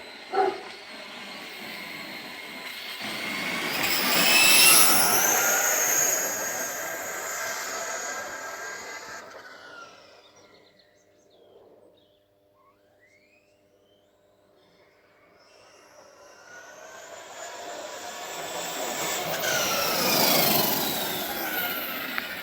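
A Kyosho DMT radio-controlled car whines up to a loud high-pitched electric motor scream, fades away to near silence, then returns and builds to another strong, rising acceleration as it passes back close by.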